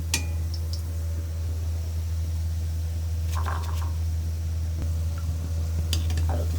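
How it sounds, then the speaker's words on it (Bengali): Semolina pitha fritters frying in hot oil give a soft, steady sizzle over a low constant hum, with a few sharp clinks of a utensil against the pan. "পিঠাগুলো ভাজা হয়ে গেছে,"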